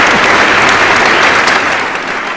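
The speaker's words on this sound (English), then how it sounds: "Hit the round of applause thing." Short burst of canned crowd applause played from a soundboard on a podcast, dense, bright clapping at full volume that tapers slightly at the end.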